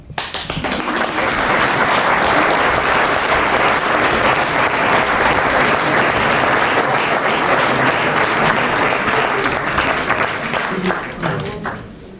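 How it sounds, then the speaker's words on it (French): Sustained, dense applause from a theatre audience at a slam poetry show fills the hall loudly and steadily, then thins slightly toward the end. "Ce bruit était celui des applaudissements de la salle où je m'étais endormi."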